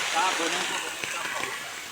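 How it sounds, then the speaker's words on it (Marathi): Steady rain pours down in a dense, even hiss on a hillside, with faint voices mixed in beneath it. "परत पाऊस आलाय"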